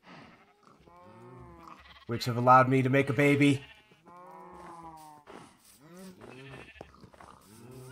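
Adult sheep with newborn lambs bleat loudly nearby in a short burst, someone talking before and after the calls.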